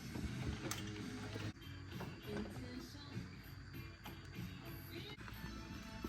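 Ratcheting and clicking as bolts are tightened down on the valve cover of a 2007 BMW 335i, a steady mechanical rattle running continuously and close up, with no talking.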